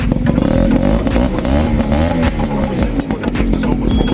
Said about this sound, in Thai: เอาไปลองทดสอบการขับมาเราฟังเสียงท่อกัน